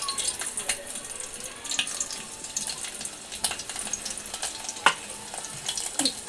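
Garlic drops into hot oil for tempering a Malvani prawn curry and sizzles and crackles steadily from close by, with occasional clinks and scrapes of stirring.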